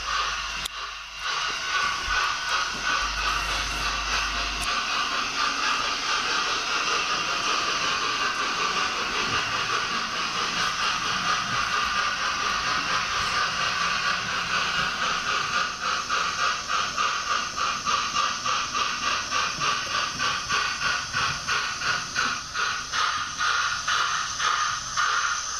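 Hornby DCC sound model of a Class A4 Pacific steam locomotive, Herring Gull, giving a loud, steady, continuous hiss of steam with a faint rhythmic pulse running through it, alone without talk.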